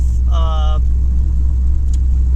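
An LS-swapped third-generation car with a misfiring, dead-cylinder engine drives with a loud, constant low rumble inside the cabin, while a brief voice cuts in early over the drone.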